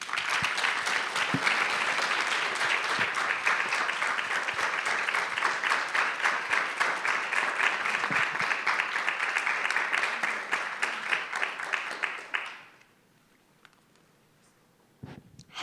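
A large audience applauds at a panel event on gender equality, dense sustained clapping for about twelve seconds that stops abruptly, leaving near silence.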